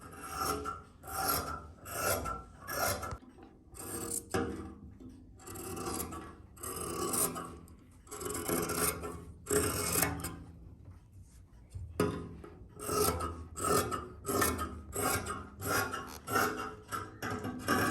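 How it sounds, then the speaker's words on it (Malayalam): Churidar fabric being cut during tailoring gives a close, rhythmic rasping of blade strokes through cloth, repeating in steady runs with short pauses and no talk. "കുറച്ച് കൂടുതൽ ഉണ്ടായതും കൂടെ ഒന്ന് കട്ട് ചെയ്ത് എടുത്തു"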